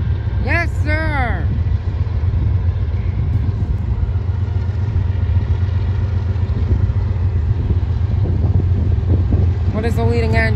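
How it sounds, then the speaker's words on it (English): Norfolk Southern freight train 25Z rumbles past with a smoky lead locomotive and the Norfolk and Western heritage unit 8103 mid-consist, a loud, steady low roar filling the whole stretch while voices chatter briefly at the start and end. "8103 in the middle, 7718 in the third locomotive, and the leader is 9736."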